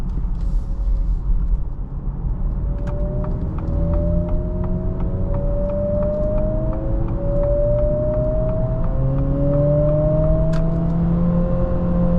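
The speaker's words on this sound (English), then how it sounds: "Apologies for the fake engine sound being pumped into the vehicle" A steady engine drone hums inside a moving 2025 Acura ADX as rising tonal sweeps of its synthetic sport-mode engine sound climb in pitch again and again, like a synthesized motor note accelerating.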